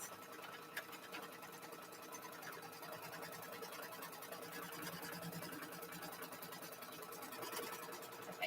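A sewing machine stitches fabric down onto a quilt, a fast, even mechanical chatter that runs steadily throughout at a fairly quiet level.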